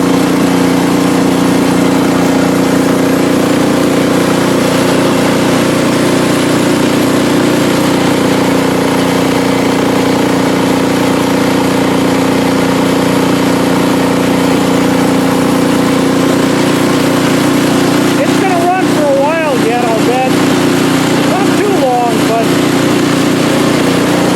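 A snowblower engine idles steadily with a constant mid-pitched chug for a long stretch, then begins to sputter and surge near the end as it runs out of gas, with faint voices briefly audible.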